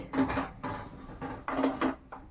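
A pot of freshly boiled rice shifted aside on a gas stove in a village kitchen, giving several nearby scraping, clunking knocks of metal on the burner in irregular bursts, with no talking.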